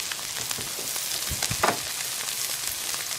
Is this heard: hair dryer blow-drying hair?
no